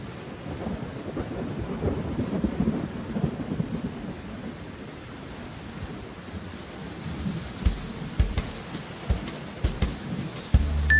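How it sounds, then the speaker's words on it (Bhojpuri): Heavy rain pours steadily while low thunder rumbles through the first half, followed by a run of sharp, close drip-like knocks near the end. "झम झम झम झम बारिश आई।"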